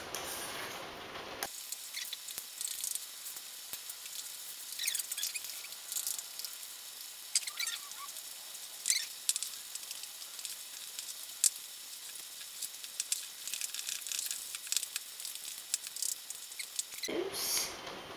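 Melted chocolate being folded into a mousse mixture, producing soft, wet crackling and squelchy patter in irregular bursts, fairly quiet and close, with no voices.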